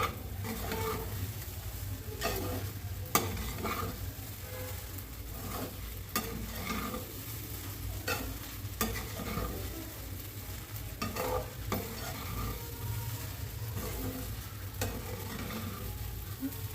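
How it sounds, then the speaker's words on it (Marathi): Sabudana and peanuts stir-fried together on a low flame for khichdi make a soft, even sizzle under repeated scraping strokes of a spoon against the pan. The sound is close and there is no speech. "परतून देऊ।"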